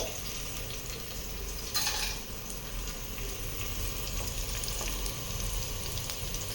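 Onion and green chili fry in oil alongside sweet potato pieces, giving a continuous close hiss with one brief louder burst of spattering partway through.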